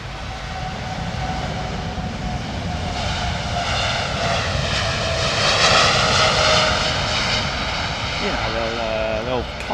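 An airliner accelerates for takeoff at Heathrow Airport, its jet engine roar building steadily and loud, with a whining tone near the end as it rotates, while people talk throughout.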